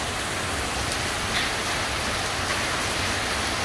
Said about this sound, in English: A little hail, some lightning and thunder. You can hear the hail.